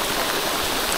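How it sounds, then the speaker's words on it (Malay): Steady heavy rain pours down at Temalah beach in Malaysia during kayak fishing, a dense continuous hiss with no pauses and no voices. "Hujan tak berhenti."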